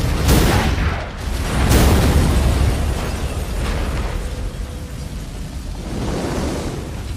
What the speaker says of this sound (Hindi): कुछ बड़ा सा धमाका होएगा।